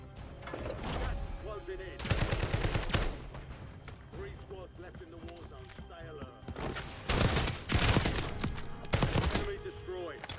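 Shotgun fire in Warzone, several loud bursts of blasts at irregular intervals with mechanical clatter and thuds between them, close and punchy, mixed with in-game noise.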